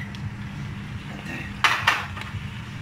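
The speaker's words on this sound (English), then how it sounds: "give that a good stir" Mince and bacon are stirred in a pan over turned-down heat, with a low background hum and a couple of sharp utensil scrapes and clinks against the pan near the middle.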